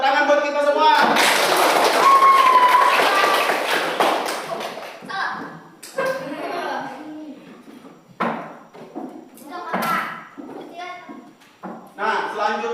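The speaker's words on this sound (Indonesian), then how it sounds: "tepuk tangan buat kita semua" A class of third-grade children at an elementary school claps together in a burst near the start, followed by a teacher talking in the classroom.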